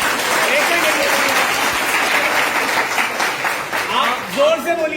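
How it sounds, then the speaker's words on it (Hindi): Audience clapping steadily throughout at a Hindi Christian testimony gathering, a dense continuous patter with some voices mixed in and a few louder bursts near the end. "आप लोग ये ताली बजा रहे हैं।"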